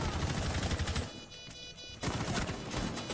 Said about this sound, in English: Oh, he just shot Buck.